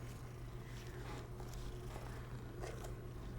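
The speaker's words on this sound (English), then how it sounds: "Oh, a kitty cat." A cat purrs steadily in Hogwarts Legacy, a low continuous rumble that holds close and even throughout, with faint game ambience layered over it.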